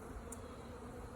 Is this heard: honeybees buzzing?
yes